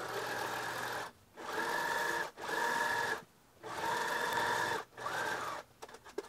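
A sewing machine set to its longest stitch sews two basting rows on a cotton T-shirt in several close bursts of rapid, even stitching, separated by short pauses and ending with small clicks.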